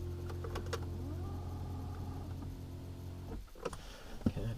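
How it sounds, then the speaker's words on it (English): Electric steering column motor in a Porsche 991 raising the wheel, a steady whirring hum at close range that runs for a few seconds and then stops, followed by clicks and rustling. "Put the steering wheel up."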